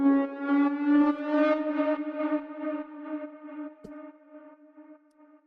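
Synth lead from the Polyglides preset by Mono and Fury, with added processing, holds a sustained retro tone that swells and gently fades, with a brief click partway through.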